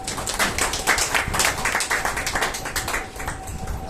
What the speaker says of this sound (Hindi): हम उनके लिए ताली बजाते हैं।